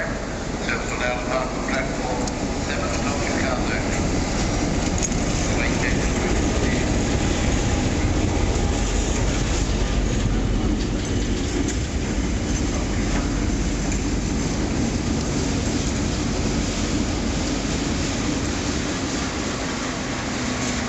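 Loud, continuous rumble of a train in motion, with rolling wheel noise and faint clatter throughout, heard from close up.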